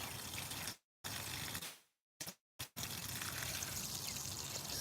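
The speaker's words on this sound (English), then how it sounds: "A good watering." Water gushes steadily over a home garden from close by, cutting off briefly several times before flowing again; no talking.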